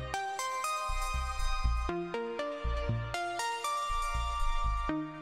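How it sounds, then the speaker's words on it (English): Omnisphere 2 synth pop pluck patch plays a bright, rapid arpeggiated pattern of short plucked notes over deep bass tones, a continuous melodic run lasting several seconds with no voices. "if we go to pop pluck, which is like an arpeggiated pattern"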